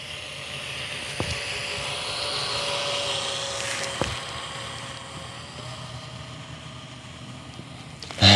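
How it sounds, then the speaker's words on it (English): An RC model P-40 plane zips past at high speed over a flying field, a steady far-off engine whine that holds throughout the clip, with a brief louder swell toward the end. "You can hear that P-40 zipping by."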